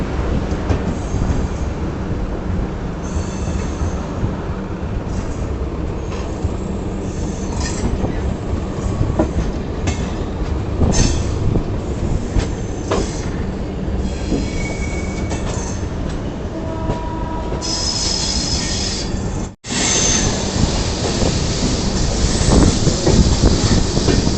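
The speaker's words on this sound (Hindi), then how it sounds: "हमारी योगा एक्सप्रेस का डिपार्चर भी हो चुका है साबरमती स्टेशन से" The Yoga Express train pulls out of Sabarmati station in Ahmedabad, its wheels rumbling and clattering steadily over the rails with occasional squeals, loud and close, with a brief cut near the end.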